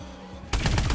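A magnetron gun opens fire in the video game Advanced Warfare, a sudden loud burst of rapid, crackling shots kicking in halfway after a quiet hum.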